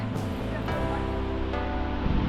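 A waterfall across the gorge at Gouffre d'Enfer near Saint-Étienne sends up a steady, distant rushing roar, mixed with some wind buffeting on the microphone.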